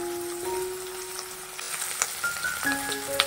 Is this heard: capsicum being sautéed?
yes